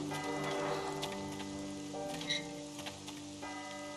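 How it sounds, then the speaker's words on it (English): Steady rain patters down in the Syberia video game, a soft continuous hiss with scattered drips and faint ticks over a low musical drone. "It's very rainy."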